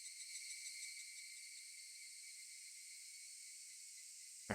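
Cicadas drone in a steady, shrill, continuous buzz that holds unchanged throughout, fairly faint, ending with a brief soft thump.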